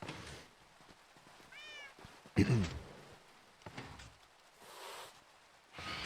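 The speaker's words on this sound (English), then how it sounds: "That cat's hissing at me." A cat in Minecraft gives a short hiss amid game sounds, with a higher meow-like call just before and brief thuds around it, all at moderate loudness.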